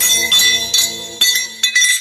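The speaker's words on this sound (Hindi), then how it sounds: "छुड़ाने के चक्कर में उसके हाथ का कड़ा खोल के गिर गया।" A metal bangle slips from a wrist and clinks on a hard floor in a quiet room, giving four or five sharp, bright metallic chinks that ring briefly, each one close and alone.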